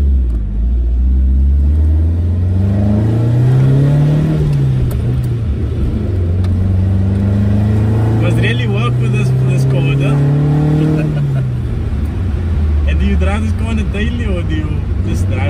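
A Toyota Corolla KE70 engine drones low and loud from inside the car while driving, rising and falling through several rev sweeps as it pulls through gears, with someone talking over the continuous rumble.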